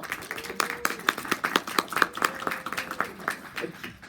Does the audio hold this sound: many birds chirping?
no